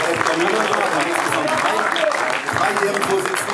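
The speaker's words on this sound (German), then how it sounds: "Applaus." A crowd gathered for a film screening about a local football boy applauds an elderly guest. Steady, fairly close clapping runs throughout, and voices talk over it.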